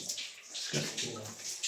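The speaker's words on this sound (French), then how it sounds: "Sauf c'est un robinet qui s'est allumé, là." Water runs from a tap that switched on by itself in a house, a steady broadband hiss that fills the space while people talk faintly at moderate distance.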